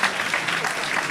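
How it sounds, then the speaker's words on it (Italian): Brief burst of steady audience applause at a Sardinian single-lift powerlifting championship, dense and continuous throughout. "L'applauso lo sottolinea"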